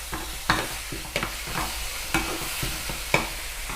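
Thai chili paste with minced pork simmering in a pan while being stirred, a low steady bubbling sizzle punctuated by regular spatula scrapes and taps about every half second, close by.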